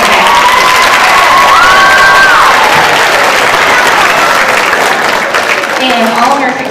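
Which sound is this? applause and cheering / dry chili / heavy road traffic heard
applause and cheering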